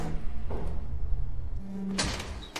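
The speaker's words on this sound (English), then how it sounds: "Oh, valve, I can open the door." A door in the video game Lethal Company slides open with a low grinding scrape, followed by a sharp metallic clunk as it finishes, heard fairly close.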